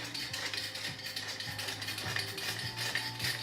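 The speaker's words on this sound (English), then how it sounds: "Pepper grinder." A pepper grinder is turned by hand, giving a quiet, steady ratcheting grind with regular clicking pulses repeating roughly every half second, close and alone.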